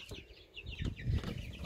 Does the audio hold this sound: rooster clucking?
yes